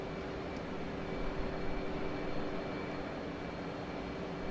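F/A-18 jet climbing after takeoff in the DCS flight simulator, a steady loud broadband engine roar with a faint whine, unbroken throughout.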